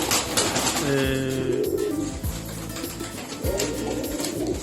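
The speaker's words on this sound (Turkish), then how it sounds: "Genelde benim beslediğim kuşlar" Play pigeons coo in low, rounded repeated calls, close by in a coop in Antalya, against a steady background hum with no talking.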